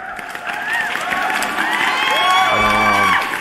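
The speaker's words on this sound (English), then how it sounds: "Let me give you guys a round of applause again." Applause sound effect of a crowd cheering and whooping, lively and close, building slightly over a few seconds with no one speaking over it.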